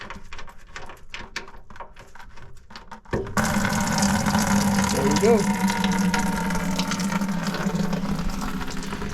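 Fluid gushes steadily from an opened drain bolt on a car's tank into a bucket, starting as scattered drips and then becoming a loud continuous pour; someone speaks briefly.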